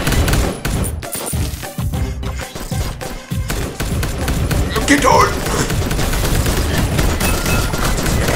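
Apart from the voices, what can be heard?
gunfire in Jydge video game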